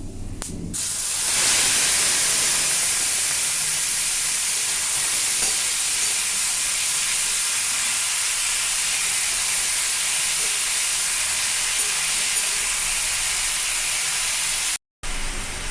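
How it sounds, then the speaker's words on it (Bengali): Tomato pieces dropped into hot oil seasoned with panch phoron for a tomato chutney, bursting into a loud, steady sizzle that holds unbroken, close by. "এবার আমি দিচ্ছি টমেটোর টুকরোগুলো।"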